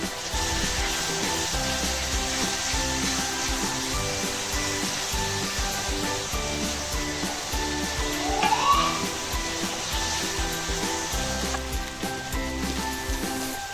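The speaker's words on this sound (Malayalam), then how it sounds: "അപ്പോൾ സവാള ശരിക്കും ഒന്ന് വഴറ്റണം" Steady loud sizzle of onions sautéing in a hot pan for dried fish chutney, a continuous frying hiss with no talk over it.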